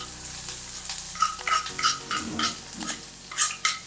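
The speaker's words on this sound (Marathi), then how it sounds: "आता आपण कांदा आणि मिरची टाकून घेऊ।" Chopped onion and green chillies frying in hot oil in a kadai, a soft sizzling hiss broken by scraping stirs and light spoon clinks against the pan, close and steady.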